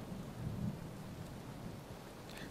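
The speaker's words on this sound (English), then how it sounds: "Thunder won't hurt you, but lightning could." Thunder from a thunderstorm rumbles low and steady for a couple of seconds, swelling briefly near the start, with rain hissing faintly over the surface throughout.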